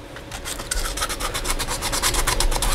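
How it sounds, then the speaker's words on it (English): Rhythmic rasping strokes of sandpaper rubbed back and forth on wood, close up and steady, quickening slightly as it goes. "finish sanding it completely"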